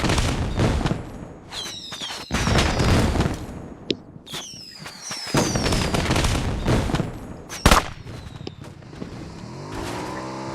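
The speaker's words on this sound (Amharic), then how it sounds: "ተኩስ" Gunfire crackles in the PUBG battle royale game as bursts of sharp automatic shots and single cracks, loud and close, mixed with vehicle engine noise and a few whooshing effects.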